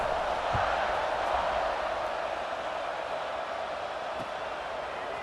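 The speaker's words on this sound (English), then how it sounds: "this crowd is buzzing after that last score" A stadium crowd buzzes steadily in EA Sports College Football 26 after a touchdown, a constant dense murmur with a couple of faint thumps, no clear speech over it.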